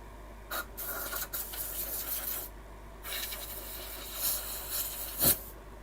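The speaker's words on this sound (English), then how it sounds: "That's how you make a ladle on a lathe." Wood is turned on a lathe to shape a ladle, giving bursts of close rasping and scraping that stop and start unevenly, with no talking.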